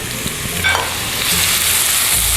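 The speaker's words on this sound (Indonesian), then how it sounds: "Kita mau panaskan minyak sekitar 30 ml. Pertama-tama kita tumis bawang merah." About 30 ml of oil heats in a pan as shallots are sautéed, producing a loud, steady close-up sizzle that swells slightly partway through, with a few light stirring clinks and no voices.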